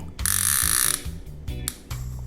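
Abu Garcia Blood Red baitcasting fishing reel giving loud, close ratcheting clicks in several quick bursts separated by short pauses.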